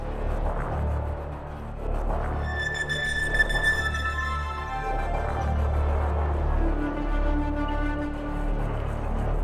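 A gritty synthesizer patch from Spitfire Audio Colossus with the mod wheel raised, a rumbling low drone under descending metallic tonal sweeps and a rising gritty texture, sustained and alone without talk.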